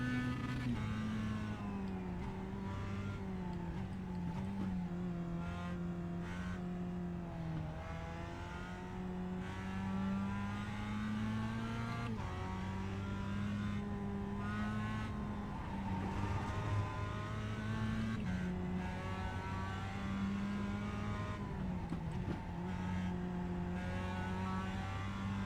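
Race car engine in the iRacing sim game, a steady loud drone rising and falling through gear changes over a continuous run, with no talk.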